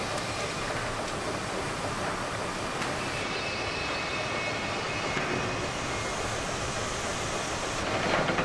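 A steam locomotive in the railway game Railroads Online gives a steady, fairly loud rumble and chuff that rolls on without a break, with no voices heard.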